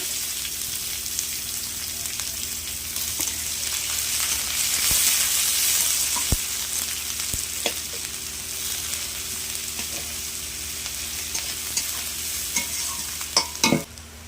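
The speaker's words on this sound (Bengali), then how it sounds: "পেঁয়াজটা আমি এইভাবে ভেজে নিয়েছি" Chopped onion and green chilli fry in oil in a kadai with five-spice seeds, a steady close sizzle with stirring clatter and a few sharp utensil knocks near the end.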